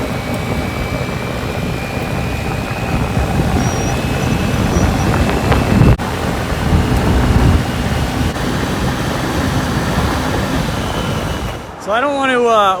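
A Honda Metro scooter with a big bore kit and a brand-new motor is ridden at full throttle. A steady, buzzing engine drone mixes with wind noise, and a voice comes in briefly near the end.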